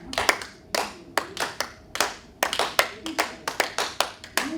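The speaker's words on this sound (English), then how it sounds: "now clap as loudly as you could" Audience at a Lions Clubs session claps loudly in unison, a series of sharp, strong hand claps in a fairly steady rhythm with short gaps, close and clear, no talking.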